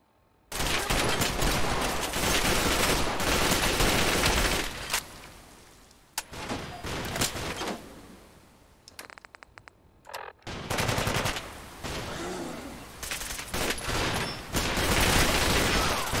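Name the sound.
gunners firing guns in video game Fallout 4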